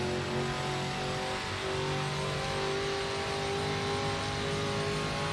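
A BMW M race car in Project Motor Racing, running an NGT championship endurance race, holds a continuous high-revving engine drone with a strong steady tone and slight pitch shifts throughout, with no talking.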